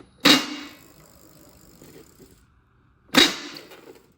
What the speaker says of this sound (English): That is the sound of the shaft in my motor grinding.